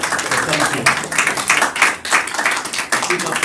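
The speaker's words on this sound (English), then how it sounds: "I'm going to applaud you because you have done an incredible job" A group applauds at a county commissioners meeting, with steady dense clapping from a room of people mixed with voices.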